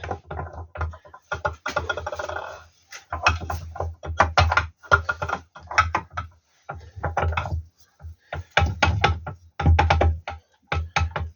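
Metal differential-lock gears are worked by hand into engagement, giving a run of close, sharp mechanical clicks and ratcheting knocks in irregular bursts with brief pauses between.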